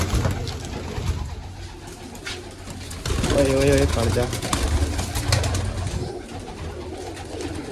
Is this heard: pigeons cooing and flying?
yes